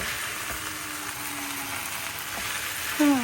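Cabbage with shrimp and onion sizzles in a frying pan, a steady bright hiss of frying with soft stirring scrapes, and a short voice or squeak rises near the end.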